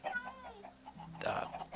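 Chickens cluck in an underground chicken farm, a few close, soft clucks and murmurs followed by a sharper squawk, heard quietly.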